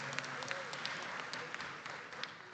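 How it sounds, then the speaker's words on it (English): An audience at an award ceremony at a water investment summit applauds, a steady, fairly distant wash of many hands clapping throughout. "Again, a round of applause."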